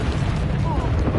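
Confringo blasting spell going off in Hogwarts Legacy on PS5, a dense continuous rumbling burst with low booming energy sustained throughout, heard close and loud under game voice activity.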